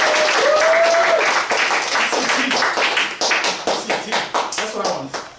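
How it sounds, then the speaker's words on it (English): An audience gives a round of applause for a first public speaker. Dense clapping starts loud, then thins into scattered, fading claps, with some voices mixed in. "Let's give a round of applause to our first public speaker."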